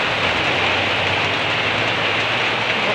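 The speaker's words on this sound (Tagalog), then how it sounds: "grabe ka kusog sa ulan dere sa barangay Tugbong-Tugon, Kapuluan, Misamis Oriental" Heavy rain pours steadily in Barangay Tugbong-Tugon, Misamis Oriental, a loud, dense, unbroken hiss of drops drumming on surfaces with no letup.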